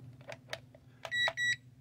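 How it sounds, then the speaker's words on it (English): A few short electronic chirps, then two clear high-pitched beeps from the transmitter of a Coolbank QF009 brushless RC airplane signalling 3D mode, close and fairly quiet over a low steady hum. "One beep, you're in automatic stabilized 6G mode"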